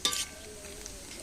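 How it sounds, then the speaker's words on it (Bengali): Grated coconut in a pan gives a faint sizzle, with a brief scrape and stir up front and then a soft, steady frying hiss. "নারকেলটা ভাজা হয়ে গিয়েছে, এবার নারকেলটাকে তুলে নিচ্ছি।"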